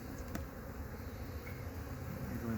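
A soft, continuous buzzing of many honey bees hovers in the background, faint and even, with no talking, during an apiary inspection.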